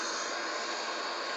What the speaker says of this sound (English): Beautiful jet engines, Airbus A330.